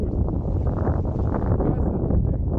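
Wind rumbles and buffets the microphone outdoors on the water during a windsurf winging session, a steady, low, noisy roar with no talk.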